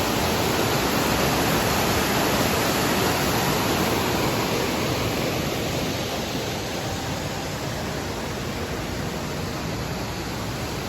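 Crystal Cascade, a waterfall in New Hampshire's White Mountains, roars as a steady, dense rush of falling water, loud and unbroken throughout with no voices.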